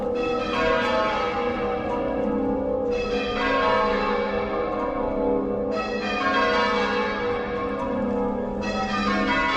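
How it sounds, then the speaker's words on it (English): Church bells chime in a steady, ringing peal during an old-world city walking tour in Peterborough, with layered harmonic tones and repeated fresh strikes roughly every three seconds, loud and continuous with no talking. "We're just here for the bells chiming out."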